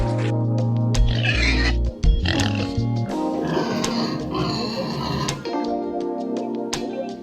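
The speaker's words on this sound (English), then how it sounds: "it says oink oink all day long" A pig oinking and grunting in a short guess-the-animal sequence, several loud close calls over a steady musical backing, with no talk.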